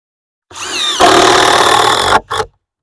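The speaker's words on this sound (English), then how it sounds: "we're going to come back and hit these with a nail gun" A loud nail gun bursts into a sustained, harsh whine against wood stair treads for over a second, then cuts off, followed by a short second burst. Close and mechanical, no talk.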